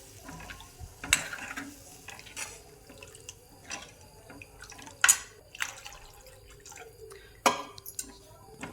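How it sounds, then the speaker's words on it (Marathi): Water poured from a mixer jar used for grinding black masala into a pan of paneer curry, heard as a few short splashes and drips at intervals over quiet kitchen background. "मिक्सरचं भांडं याच्यातच धुवून टाकायचं"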